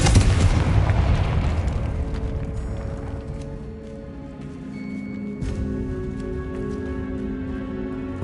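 A Confringo fire spell explodes near an altar in Hogwarts Legacy, a loud booming blast with crackling fire that slowly decays into a lingering low rumble and faint magical ringing tones.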